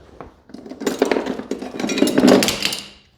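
A handful of crescent wrenches of several sizes being handled, with metallic clanks and clinks of steel tools knocking together, close and fairly loud over about three seconds.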